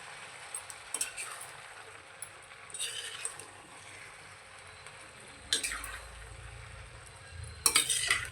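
Washed ridge gourd pieces tipped into a pan for a Telugu curry and stirred: quiet sizzling under scattered clinks and scrapes of a spoon against the pan, with a few louder bursts of stirring.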